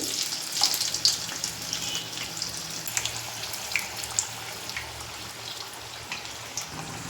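Green chili bajji crackling and bubbling in hot oil for a Telugu evening snack, a steady close sizzle with scattered pops and spatters throughout, no voices.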